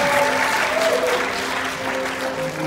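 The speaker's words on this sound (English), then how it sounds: "Big round of applause for the stars of our show." Loud, dense audience applause at a hypnosis stage show, a sustained roar of clapping with a few tonal voices or whoops ringing through it.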